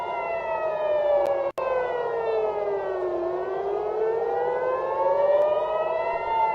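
An air-raid siren sounds during a missile attack, a loud unbroken wail that dips in pitch and then climbs again, with one brief click partway through and no voices.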